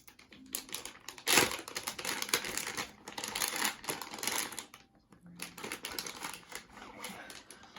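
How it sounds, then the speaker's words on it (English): Plastic packaging crinkles and rustles in short, irregular bursts as LED lights are unwrapped close by, faint and intermittent. "the first thing you want to do is unwrap your LED lights"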